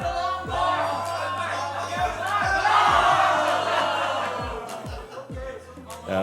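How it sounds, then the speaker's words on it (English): Spectators at a Classic Tetris World Championship UK regional bracket match burst into loud, sustained cheering and whooping that swells across the hall, over a steady electronic game soundtrack with rhythmic low thumps. "The crowd goes nuts."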